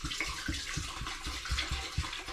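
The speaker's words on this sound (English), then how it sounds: "I'm going to take my liquid now and I'm going to simply pour it back into the distiller" Diluted limoncello wine is poured into an Air Still distiller, a short, quiet stretch of liquid splashing with a soft, pulsing glug-like rhythm.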